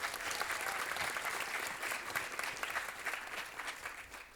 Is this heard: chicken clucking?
no